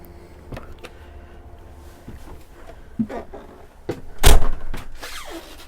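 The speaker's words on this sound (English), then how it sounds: "Now we're going to go through the habitation door." The habitation door of a 2012 Rimor Trimarno 69 motorhome opens with scattered clicks and a latch clunk, then a louder thump and rattle as it swings, close by and fairly quiet overall.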